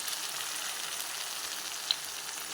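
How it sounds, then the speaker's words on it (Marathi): Curry leaves sizzling in hot oil in a kitchen, a steady close hiss of frying with one small pop near the end. "त्याच्यानंतर आपला कढीपत्ता टाकायचा"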